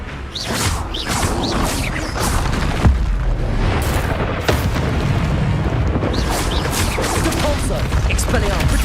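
Spell blasts such as Confringo in Hogwarts Legacy, a dense run of loud booming impacts and crackling bursts in close succession throughout, with no voice over them.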